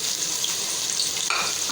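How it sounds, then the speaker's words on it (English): Onions browning in a frying pan for chicken Bombay biryani give off a steady, close hiss of oil sizzle that stays unbroken and fairly loud, with no voices. "Firstly, we have to brown the onions."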